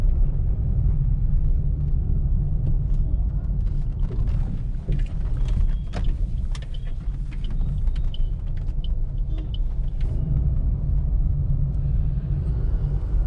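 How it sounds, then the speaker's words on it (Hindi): A car driving along a road in first gear gives a steady, close low rumble for the whole stretch, with light rattles and clicks scattered on top and no talking. "अब यहाँ पे फर्स्ट गियर पे गाड़ी चल रहा है।"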